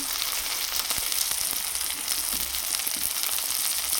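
Two tomatoes frying in hot oil in a pan for steamed egg curry, giving a loud, continuous close sizzle with crackling spatters and a faint stirring sound, with no talking.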